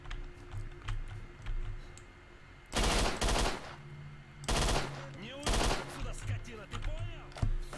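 Viper 5 submachine gun fire in the shooter game Stalker: Shadow of Chernobyl, several sharp rapid bursts separated by pauses, loud and close, with quieter clicks and faint speech between them.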